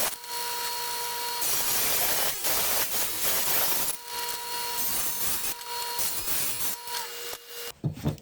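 Wood pieces for a spiral Christmas tree being cut with a power tool, a loud continuous whining buzz running in long stretches with short breaks and a clatter at the end.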